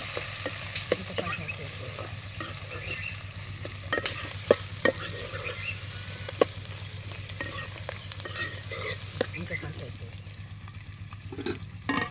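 Village-style chicken curry frying in a pan hisses and sizzles steadily for a long stretch, with scattered clicks and scrapes from stirring, close up and without talk.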